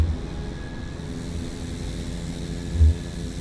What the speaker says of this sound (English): You can hear I've got the electric engines running.